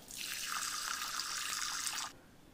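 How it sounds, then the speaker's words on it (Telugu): Running tap water pours steadily over chana dal (split chickpeas) being washed in a kitchen sink, a close, even rush of water for about two seconds that cuts off abruptly, with no talk. "దాన్ని ఫస్ట్ అయితే బాగా వాష్ చేసేసుకోండి"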